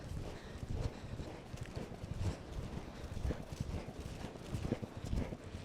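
Steady rhythmic hoofbeats of a horse moving at a brisk pace outdoors, with wind buffeting the microphone.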